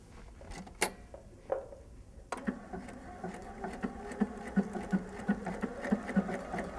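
A home sewing machine threaded from a Superior Thread holder starts with a few sharp clicks, then runs in a steady, rhythmic stitching patter, close and moderately quiet.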